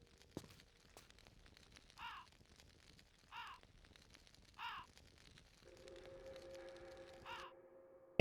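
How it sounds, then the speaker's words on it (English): Crow cawing in Tomb Raider Remastered, four separate harsh caws spaced a second or so apart, moderately faint and alone, with a low hum coming in near the end. "Really need to know where that fucking crow is."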